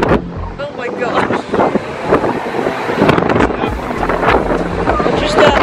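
Strong gusting wind buffets the microphone at the summit of Mount Washington, roaring and fluttering loudly and continuously, with people's voices partly buried underneath.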